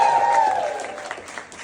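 Brief burst of audience applause at a comedy crowd-work set, starting full and tapering off over under two seconds, with faint murmurs underneath.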